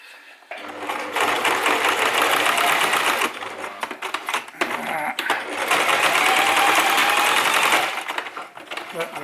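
A sewing machine stitches a wool Loden cover in two long, fast, rattling runs separated by a short pause, loud and close.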